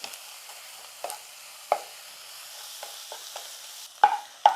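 Green peas masala with chilli powder, masala and turmeric is sautéed in a pan, quiet frying underneath and intermittent scraping stir strokes that get louder and sharper near the end, with no voices.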